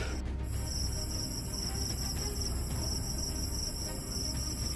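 Crickets chirp at night in a dense, continuous high-pitched trill, steady and moderately loud, with a brief click at the very start and faint low rumble beneath.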